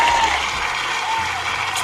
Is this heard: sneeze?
no